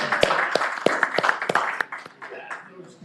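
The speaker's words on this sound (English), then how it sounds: "Stand up and give them a round of applause" People at a Virginia Senate Judiciary committee meeting clap for the staff, with sharp individual claps at first thinning into scattered, fading applause, and voices talking over it.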